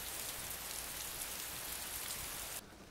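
Steady hiss of rain falling at night in the video game Persona 4, a dense even downpour heard alone that drops away sharply just before the end.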